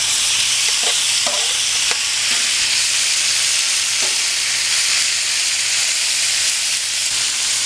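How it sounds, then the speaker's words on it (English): Marinated steak searing on a hot Blackstone griddle with no oil, a loud constant hiss and sizzle close up, with a few faint clinks of a utensil. "You get an instant sear on that steak"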